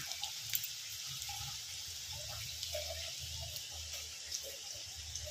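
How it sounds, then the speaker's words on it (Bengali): Water trickles and drips faintly as paneer is squeezed out by hand, a soft, close splatter of liquid with small irregular drops and no talking. "এই যে এরকমভাবে নিংড়ে নিয়ে আমি তুলে দিচ্ছি। তাতে কি হবে, এক্সট্রা যে জলটা যেটা আছে"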